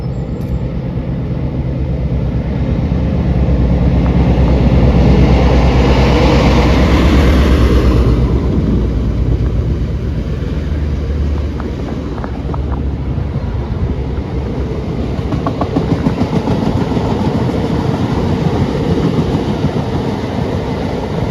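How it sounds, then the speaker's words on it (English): A Class 60 diesel locomotive rumbles past hauling a long string of loaded stone wagons, with a steady low drone and faint rhythmic wheel clatter throughout. "And finally, another Class 60 on a full stone train."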